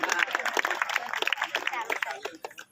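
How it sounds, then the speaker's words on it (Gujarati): Men and women in an audience clap in quick, uneven bursts that carry on throughout, with chatter and voices mixed in under the clapping. "અને જે બધાને તાળીઓ પાડવી હોય તો ભાઈઓ બહેનો બધાને છૂટ છે"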